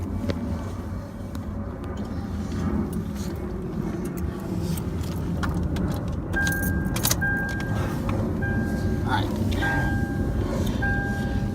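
Car keys jangle and clink inside a Toyota 4Runner while the ignition is switched on, with bright metallic rattling over a constant low interior hum and some faint background speech.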